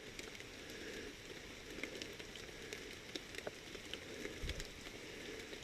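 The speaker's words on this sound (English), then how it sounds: "Can you all see that rain coming down?" Steady rain falling outdoors in cold weather, a soft, even hiss of drops with occasional closer patters and ticks, fairly faint and continuous with no talking.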